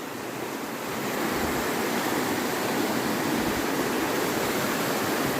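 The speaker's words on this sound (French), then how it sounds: "Le brouhaha de la rivière." A rushing river at night near the old Saint-Aubert site in Putanges, Normandy, roars as a dense, steady broadband wash that swells after the first second and holds loud and unbroken, with no voices.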